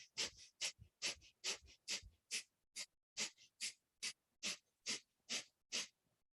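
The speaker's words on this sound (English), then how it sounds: "And now start a breath of fire again." Rapid rhythmic breath of fire in Kundalini yoga, sharp nasal exhalations pulsing at an even quick pace, close and fairly quiet, with no talking.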